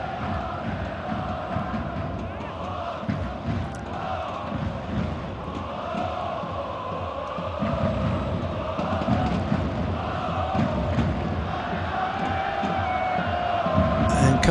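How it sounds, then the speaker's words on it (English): A football stadium crowd at an Asian Champions League group match between Shanghai SIPG and Kawasaki Frontale, a steady roar of cheering and chanting that grows louder toward the end. "And the crowd are enjoying it again. They've rediscovered their voices."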